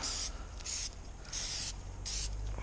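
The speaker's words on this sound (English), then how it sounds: "Spray the hub." Four short hissing bursts of aerosol cleaner sprayed on a brake hub of a Subaru STi, evenly spaced, sound close up against a low, steady rumble in the background.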